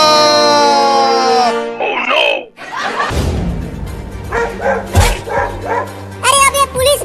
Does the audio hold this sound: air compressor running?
no